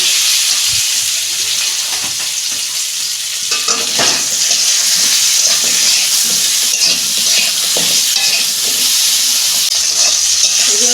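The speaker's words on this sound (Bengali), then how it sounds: "নুন দিচ্ছি হলুদ দিচ্ছি এগুলো আমি একটু ভেজে নেব" Mixed vegetables fry in a pan with salt and turmeric, giving a loud continuous sizzle close by, with stirring scrapes and clatters over it and no talk.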